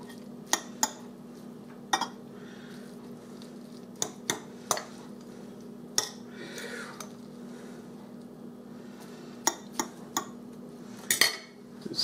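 Spaghetti squash is lifted onto a plate, with a serving utensil tapping and clinking against dishes in sharp, scattered strikes. Several are close together, over a quiet background hum.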